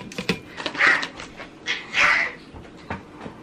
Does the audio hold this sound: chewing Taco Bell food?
no